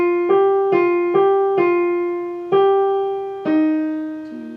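Keyboard playing Khachaturian's Andantino, a short line of distinct piano-like notes struck one after another at an easy walking pace, each decaying gently, clear and close with no talking.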